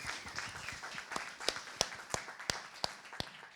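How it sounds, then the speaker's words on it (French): A small audience claps in scattered, sharp beats at a comedy stage show in France, roughly a dozen distinct hand claps over a soft room murmur, moderately distant. "j'aimerais que vous fassiez un maximum d'applaudissements pour Flonflon"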